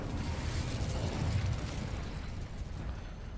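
Spell blasts from the video game Hogwarts Legacy, a dense, rumbling burst of explosive impacts and crackling magic layered together into a continuous heavy roar.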